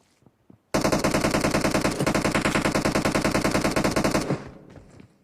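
Sustained rapid automatic gunfire from PUBG Mobile, loud and close, one continuous burst of evenly spaced shots lasting several seconds before stopping abruptly, with faint clicks before it.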